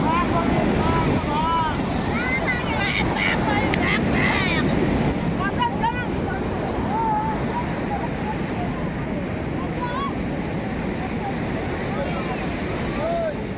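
Ocean surf breaks on Puri beach on the Odisha coast, a continuous close wash of waves under strong wind buffeting the microphone, with faint chirping bird calls and distant voices in the background.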